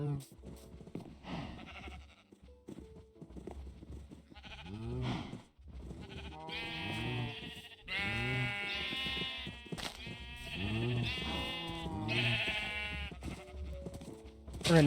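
Minecraft sheep in a large pen bleat in repeated, overlapping calls, fairly loud and mixed with other blocky game noises, with a voice talking over parts of them.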